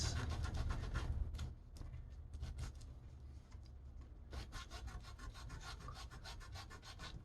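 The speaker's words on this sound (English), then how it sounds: "So I will still use my sandpaper. Again, I'm using 150 grit." Leather sanded by hand with 150-grit sandpaper, giving a close, steady run of quick rasping back-and-forth strokes that pause briefly and then resume in a faster rhythm.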